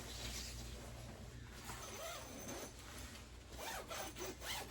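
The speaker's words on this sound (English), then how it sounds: "After pulling the zipper a little bit, it's not getting snagged or anything" Faint scratchy rubbing and short zipper pulls on a sleeping bag, quiet and close, with a couple of quick drags near the end.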